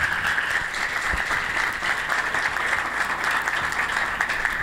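A church congregation at a Sunday meeting applauding, a loud sustained wash of many hands clapping together, steady and even from start to finish.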